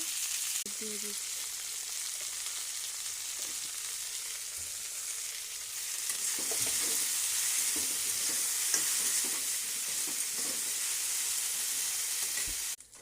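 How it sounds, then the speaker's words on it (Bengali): Okra fries in hot oil with salt in a pan, giving a steady hiss that swells louder midway, with a few soft stirring scrapes and no talking. "এবার ভেন্ডি ভাজা করে নেব"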